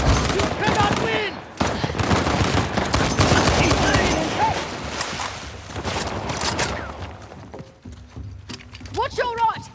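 Rapid bursts of automatic gunfire and scattered shots in the video game Uncharted: The Lost Legacy, dense and loud, with shouted voices mixed through the firefight before it thins out.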